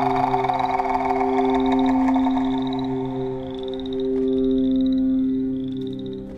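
Frogs croaking in a continuous, dense outdoor chorus, with steady loud calls and repeated higher trilling notes layered throughout, no voices.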